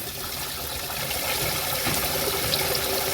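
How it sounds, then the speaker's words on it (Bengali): A tap left running on a rooftop garden, a steady wash of splashing water pouring without break, moderately close and fairly quiet. "ওই কল বন্ধ কর"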